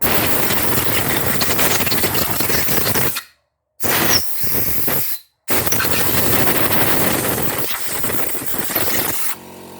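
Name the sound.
air compressor kicking in while blowing out gearbox part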